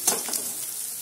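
Turmeric sautéing in hot oil for poha gives a steady close sizzle with a couple of soft stirring scrapes near the start, no voices.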